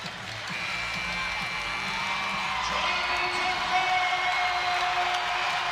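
Crowd cheering and whooping at an NCAA men's volleyball match between UCLA and UC San Diego near set point, a steady, loud roar of many voices that swells slightly over a few seconds.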